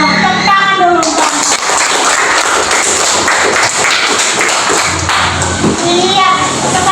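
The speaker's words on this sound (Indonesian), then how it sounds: "Tepuk tangan dulu, Pak." Loud, dense applause from a classroom of children, a steady wash of many small claps and thuds lasting several seconds, with scattered young voices and an adult speaking over it.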